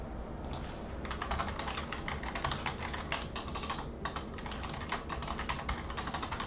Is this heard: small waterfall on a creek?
no